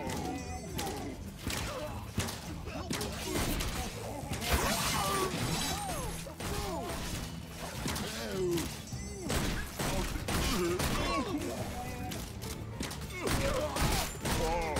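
Rapid gunfire rattles through a video game battle against hordes of orcs, dense continuous shooting mixed with impact crunches and squealing creature cries.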